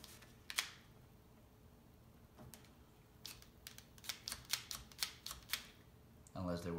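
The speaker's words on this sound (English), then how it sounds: "And it does clack when I let it go of the trigger." Trigger of a UGears Wolf-01 wooden handgun puzzle clacks when released, a quiet, close series of sharp wooden clicks, one early and then a rapid run of about a dozen, ending with a short murmur of voice.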